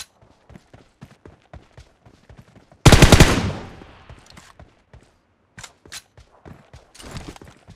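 Gunfire in PUBG Mobile striking a pan, with one loud burst of impacts that rings and decays, set among scattered sharp single shots and clicks before and after.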